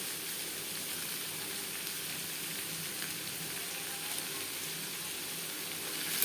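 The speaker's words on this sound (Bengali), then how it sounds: "অল্প অল্প করে ভাত মিক্স করতে থাকবো আর নাড়তে থাকবো" Cooked rice being stir-fried and mixed with half-cooked vegetables in a pan for fried rice, a steady, even sizzle with faint rustling from stirring, continuous and moderately quiet with no talk.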